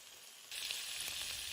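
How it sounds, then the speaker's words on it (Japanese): Bacon frying in a frying pan, a faint hiss that jumps into a steady, bright sizzle halfway through and holds, close and alone with no voices. "ベーコンをフライパンで焼きます。"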